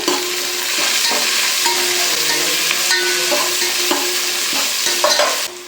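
Onions and chilies fry loudly in a pan for chicken dum biryani, a dense close sizzle with periodic scraping and tapping as a spatula stirs them through.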